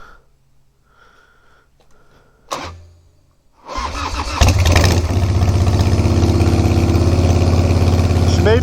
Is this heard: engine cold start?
yes